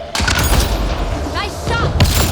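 Gunfire in a Mass Effect Andromeda battle: loud, booming, overlapping shots and impacts in a dense barrage, with a voice speaking briefly midway.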